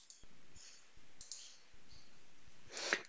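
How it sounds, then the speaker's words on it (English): A computer mouse clicks several times in a quiet room, sharp isolated taps spaced roughly every half second, followed by a brief brighter interface sound at the end. "I'm going to click on close."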